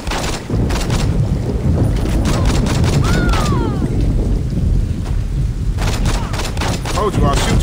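Gunfire in the video game Saints Row: repeated sharp shots and bursts rattle through a dense, loud, steady wash of game noise and wind-like rumble, with speech-like voices mixed in.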